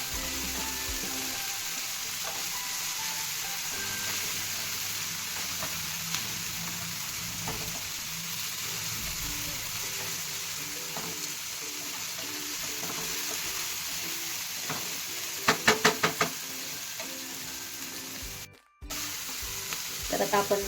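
Onion and tomato masala frying with salt in a pan for egg bhurji: a steady, close sizzle fills the whole stretch, with a few sharp clinks of a utensil near the end and a brief dropout just before it.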